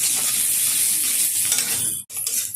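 Onion, tomato and spices being stirred in a hot pan, a steady bright sizzle with scraping stir strokes and a brief pause near the end before the sizzle resumes.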